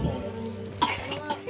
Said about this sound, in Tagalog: O bakit ka na naman inuubo na?